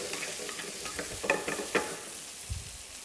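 Bacon sautéing in a pan, a steady quiet sizzle with a few sharp spatula scrapes and stirs scattered through, plus one low thump near the end; no talking.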